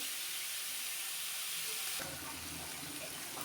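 Kechki fish cooked with radish is gently stirred in a pan, a soft, continuous sizzle that grows louder midway as the stirring starts, close but quiet, with no voices.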